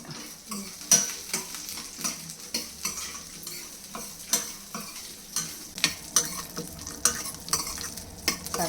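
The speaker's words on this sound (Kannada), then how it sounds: "ಗೋಡಂಬಿ ಅದನ್ನು ಸ್ವಲ್ಪ ಗೋಲ್ಡನ್ ಬ್ರೌನ್ ಆಗೋ ತನಕ ಹುರ್ಕೋಬೇಕು" Cashews fry in ghee in a pan for broken wheat payasa, a soft steady sizzle punctuated by regular spoon scrapes and taps against the pan, close and fairly quiet.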